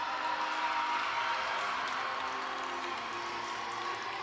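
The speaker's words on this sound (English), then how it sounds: "The crowd's liking it." Crowd at an Ohio State at Michigan State gymnastics meet applauding and cheering after a beam routine, a dense steady wash of clapping and cheers held at an even level throughout.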